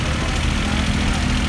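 An Allis-Chalmers tractor engine idles in an antique tractor parade, a steady low rumble running throughout under a broad wash of outdoor noise.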